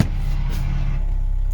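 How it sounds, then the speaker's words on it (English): A front end loader rumbles steadily at a distance across a street, a low engine drone with faint clanks, no voices present. "The neighbor's using his front end loader over across the street there."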